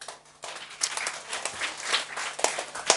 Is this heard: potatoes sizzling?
no